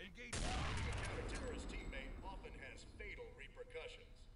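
Gunfire in the Counter-Strike video game: a loud burst of shots erupts near the start, then trails into a rumbling echo with scattered game sounds, with a voice talking over it.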